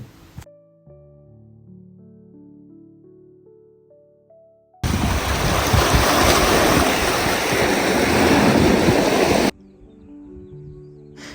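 Ocean waves on Clachtoll beach in Scotland on a sunny day: a dense, steady rush of surf and wind lasting several seconds, loud and continuous, set between quieter musical passages.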